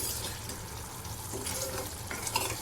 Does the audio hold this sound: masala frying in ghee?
yes